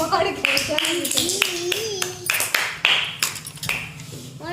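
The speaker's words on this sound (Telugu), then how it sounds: "క్లాప్స్" Children clap together in a primary school classroom, several short sharp bursts spaced about half a second apart, with a teacher's voice and children's voices in between.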